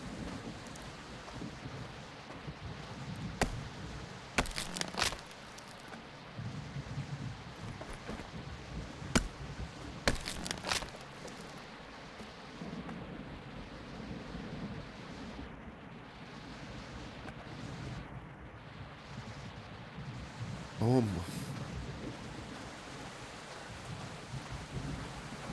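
Steady rain pours down in the survival game Project Castaway while thunder cracks sharply a few times and rumbles, loud and close against the constant hiss of rainfall.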